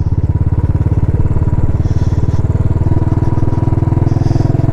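A Royal Enfield Classic 500 single-cylinder motorcycle putts along slowly, its loud, close, steady thumping exhaust beat even and unbroken throughout.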